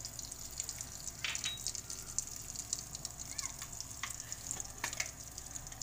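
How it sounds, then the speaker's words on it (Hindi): Garam masala and spices frying in hot oil with melted butter while shahi paneer is cooked, giving a soft, steady sizzle with faint stirring scrapes, fairly quiet and with no talking. "अब मैं इसमें ये गरम मसाला डालने जा रही हूँ"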